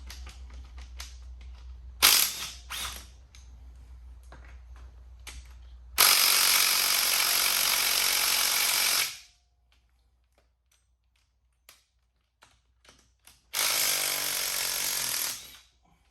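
A ratchet works on timing set bolts of a Subaru EJ205 engine, giving bursts of rapid clicking and sustained buzzing runs in short spells, separated by quiet pauses and scattered light taps.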